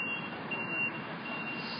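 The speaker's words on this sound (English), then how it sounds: "garbage truck backing up under a police escort" A garbage truck backs up under police escort at a cleared homeless camp, its reversing alarm beeping steadily and fairly close over a constant outdoor rumble.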